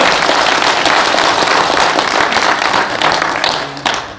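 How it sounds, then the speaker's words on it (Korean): Loud, dense applause from a seated audience at a formal annual general assembly and special lecture, a steady wash of many clapping hands lasting about four seconds before thinning out at the end. "큰 박수 부탁드립니다."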